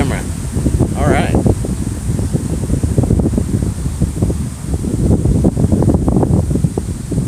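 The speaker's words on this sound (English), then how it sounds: "it's that windy" Strong outdoor wind buffets the microphone in steady gusts, with loud low rumbling and rustling that continues through the whole stretch and overwhelms everything else.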